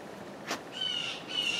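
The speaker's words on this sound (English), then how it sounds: "chatty birds" Birds chirp and call faintly in the background, a quick squawk followed by two thin, high-pitched trilling calls, with no voices.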